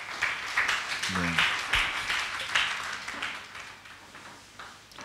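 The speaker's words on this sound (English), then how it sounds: "Can you clap for the choir?" A church congregation claps and applauds steadily for the choir, with a brief spoken word and a low hum of voices underneath.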